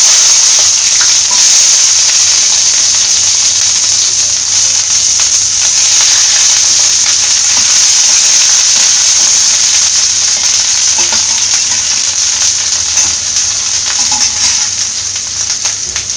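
Shallots frying in hot oil in a pan, a loud close sizzle with a bright hiss that holds steady throughout, with faint stirring scrapes underneath and no speech.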